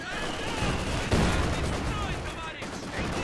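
Maxim machine gun firing in Company of Heroes 2, a dense stream of steady bursts and battle noise at moderate distance, with a voice talking over it.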